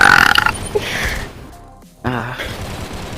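Loud, throaty burps from a man, a long rasping belch at the start and another deep, rattling one after a brief pause, close and forceful, with a bit of voice noise around them.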